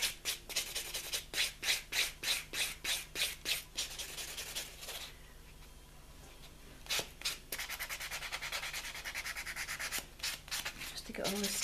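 A white sanding block rubs back and forth over acrylic holding an encapsulated feather, first in a regular run of close rasping strokes, then a short pause, then quicker continuous scrubbing.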